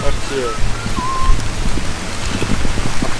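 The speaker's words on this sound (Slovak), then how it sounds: "Začína nám poprchať a to motorkárov nikdy nepoteší." Light rain begins to fall on a motorcycle trip through Vietnam, a steady soft hiss with scattered patters of drops, with faint voices briefly in the background.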